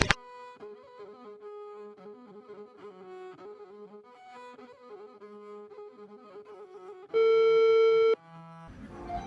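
A telephone call tone sounds while someone phones a relative: one steady, loud electronic beep lasting about a second, heard over soft background music, with a low rumble after it.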